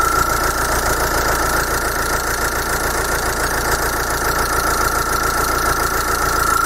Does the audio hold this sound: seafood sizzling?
no